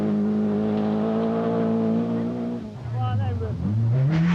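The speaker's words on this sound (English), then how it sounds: "In Class 5 for the big engine Group A cars, Englishman David Metcalf's Astra is second and 14th overall" A big-engine Group A rally car on the 1986 Circuit of Ireland drives past with a loud, steady engine drone, and its pitch drops then climbs again as it moves through and away.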